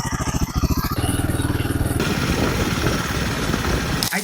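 A Royal Enfield Himalayan 2025 motorcycle engine runs nearby, loud rhythmic thumping at first, then a steady rough idle with clattering mechanical texture.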